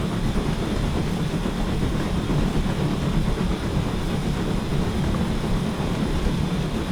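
A steady, moderate rumble of an L&YR Class 5 steam locomotive running in a train simulator game, a continuous rolling drone with faint rail clatter after the reverser is turned up for more power, alone without voices.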